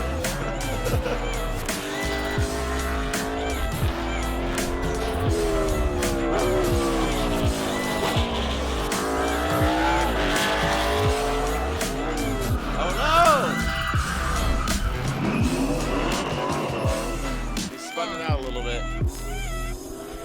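A NASCAR stock car drives hard and slides, its loud engine roaring steadily with rising and falling revs and tire squeal as it skids, while people talk and cheer over it.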